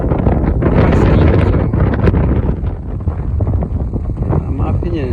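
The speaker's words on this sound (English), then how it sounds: "Sorry for the wind folks," Strong gusting wind buffets an outdoor microphone beside a river mouth where boats launch, a loud continuous low rumble that swells and eases throughout with no break.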